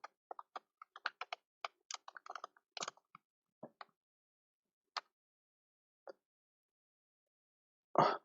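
Quiet, close keystrokes on a computer keyboard while typing a file name, a quick irregular burst of taps thinning to a few isolated presses and ending with a louder key hit.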